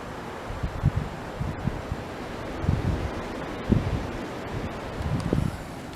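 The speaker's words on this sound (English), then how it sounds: "the wind is almost as bad as it was the other day when we had a windstorm" Strong wind gusts outdoors in the dark during a windstorm, a steady broadband rush with low buffeting thumps recurring every second or so against the microphone, fairly loud with no talking.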